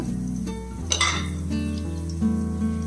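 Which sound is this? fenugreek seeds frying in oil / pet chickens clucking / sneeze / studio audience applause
fenugreek seeds frying in oil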